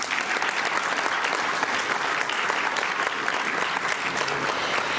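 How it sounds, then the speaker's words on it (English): Steady applause fills a school board meeting room as the audience claps without pause, dense and even throughout with no one speaking over it. "So give them another round of applause."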